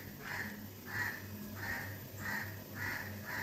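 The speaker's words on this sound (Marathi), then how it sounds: "कावळ्यांचा आवाज आला ना बाहेर," Crows caw outside, about six harsh calls in an even rhythm at a moderate distance, fairly faint and with no talk.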